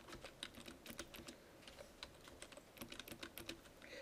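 Quick typing on a computer keyboard, with a steady patter of light, close key clicks that runs throughout, faint and with no talking.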